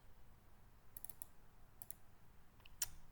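Computer mouse double-clicks while a map layout is set up in ArcGIS: a few faint, sharp click pairs spaced a second or so apart over a quiet room hiss, with no talking.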